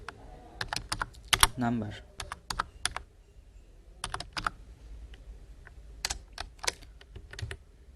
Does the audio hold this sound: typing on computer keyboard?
yes